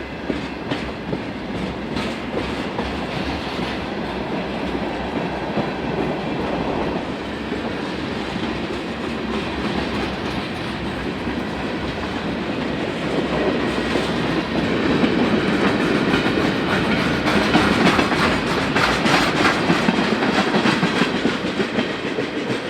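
A westbound Canadian National freight train rolls past on the former Elgin, Joliet & Eastern line, a steady loud rumble with rhythmic clickety-clack of wagon wheels that builds slightly over the passage, heard alone without talk.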